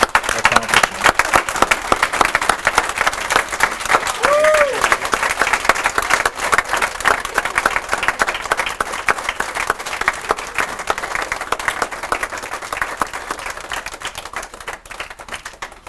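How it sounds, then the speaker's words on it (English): A crowd rises in a standing ovation at the opening of a youth centre, filling the room with loud, continuous applause that stays dense and steady throughout. A voice is briefly audible beneath the clapping. "give this wonderful woman a standing ovation, a round of applause for her accomplishment"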